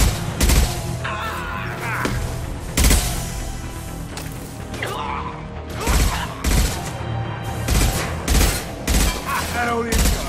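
Heavy gunfire in Mass Effect 2 rattles in repeated loud bursts and sharp volleys, with mechanical clatter between shots over about ten seconds.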